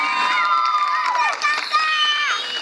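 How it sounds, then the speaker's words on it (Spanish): A festival crowd in honour of José A. Flores cheers loudly, with high children's shouts and whoops sweeping up and down over a bed of crowd noise, close and lively for a few seconds. "Así que un aplauso para todos ustedes"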